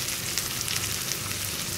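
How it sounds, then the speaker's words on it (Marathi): Nivtya fish, an Agari-style recipe, frying in an uncovered pan with a steady, close, continuous sizzle and crackle and no talking. "आपल्या निवट्या फ्राय झालेले आहेत"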